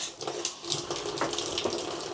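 Water streams steadily from a sink tap for washing dishes in a small apartment unit, a continuous hissing splash with faint clinks, moderately close and with no talking.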